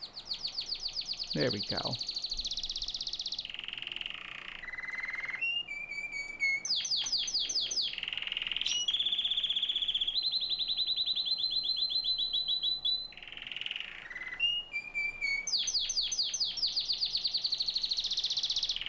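Pet birds chirping and singing indoors, with bright rapid trills, repeated whistled notes and tweets running almost continuously, fairly close, while a person speaks briefly near the start.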